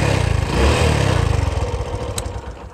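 A motorcycle engine idles just after starting, a loud close-up chugging pulse with a steady rapid beat and a brief swell early on, running alone without talk.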